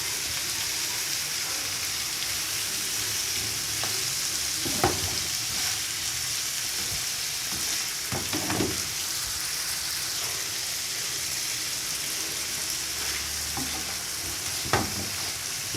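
Chopped tomatoes sizzling as they go into a pan of Shinwari mutton karahi, a steady close frying hiss with occasional clinks and scrapes of stirring, no talking.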